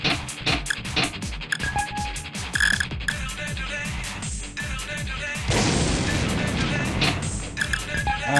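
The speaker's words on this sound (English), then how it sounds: "I think I need to use artillery on this." Artillery firing and heavy mechanical clanking in the tank combat video game War of the Human Tanks ALTeR, repeated loud impacts and grinding machinery with a big blast burst midway, layered over game music.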